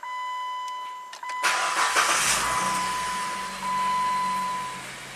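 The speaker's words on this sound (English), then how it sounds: "I guess you have to hold the key to crank." A 2008 Jeep Wrangler engine cranks briefly with the key held, catches and settles into a steady idle, loud and close, with a faint warning chime ringing throughout.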